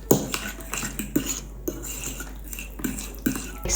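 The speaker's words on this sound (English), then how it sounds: "And then we stir." A spoon stirs a Greek yogurt mixture with garlic, salt and pepper in a bowl, clinking and scraping against the sides in a run of short, fairly close strokes with brief pauses between them.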